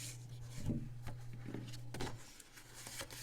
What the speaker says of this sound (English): I want you to fold on the 6-inch score line